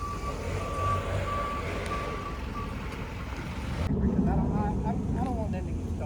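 A tow truck's reversing alarm beeps in a steady repeating pattern over a rumbling engine, the beeps then stopping as the motor noise and other sounds continue.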